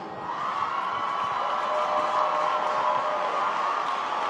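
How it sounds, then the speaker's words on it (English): An audience at a 2020 NOI drill competition applauds and cheers in a steady, sustained wash of crowd noise that holds at an even level throughout. "please stand on your feet and give a warm round of applause for Student Minister Jeffrey Muhammad."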